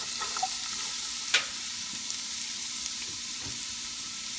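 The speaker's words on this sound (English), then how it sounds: "and then let's add our onions" Onions sizzle and fry steadily in hot olive oil for a Filipino paksiw na pata, with a bright continuous crackle and a few sharper pops and stirring clicks.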